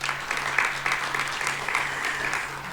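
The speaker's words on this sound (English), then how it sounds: "I think we need to give ourselves a round of applause" Applause from attendees at the SANBio annual event in 2019, a moderate, steady spread of clapping over a faint low hum.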